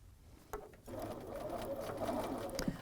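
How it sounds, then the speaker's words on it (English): Sewing machine stitching down the middle of overlapping fabric bias strips for basket handles, a quiet close whirring run starting after a brief click and continuing steadily. "And then we're just going to sew right down the middle"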